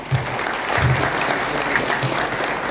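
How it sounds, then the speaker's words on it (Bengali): An audience at an annual business summit in Tajpur applauds together, with a dense, steady wash of clapping that runs through the whole moment and a few louder bursts standing out near the front. "আপনারা নিজের জন্য একটা হাততালি দিন"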